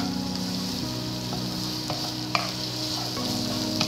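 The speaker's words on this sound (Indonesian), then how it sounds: "Nah, ini kita tumis dulu bawang bombay, bawang putih yang sudah kita cincang, dan juga jahe yang sudah kita memarkan" Chopped onion, garlic and crushed ginger sizzle in a pan for chicken teriyaki, a steady close frying hiss broken by occasional clicks of a stirring spatula.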